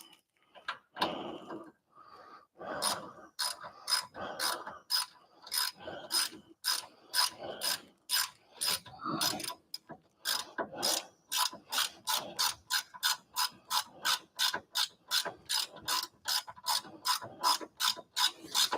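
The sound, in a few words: ratchet wrench turning during Miata steering rack install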